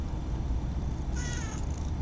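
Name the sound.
cat meowing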